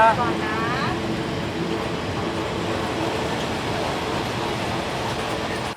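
Steady loud rumble of a train coming to a stop on rails, a continuous broadband roar with faint squeals early on, holding fairly even throughout.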